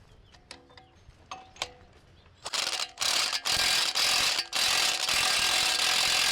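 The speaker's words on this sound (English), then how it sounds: "Gonna have to use some pliers in the back, or channel locks, whatever they're called." Pliers or channel locks work on a wheel bearing snap ring in a Honda press-in wheel bearing job: a few sharp metallic clicks, then a dense run of loud scraping, rasping metal noise close by, with no talking.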